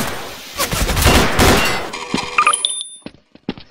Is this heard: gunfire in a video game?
yes